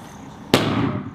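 A grenade detonates during Marine training, one sharp, loud blast midway that rolls into a rumbling decay over about half a second, with no voices.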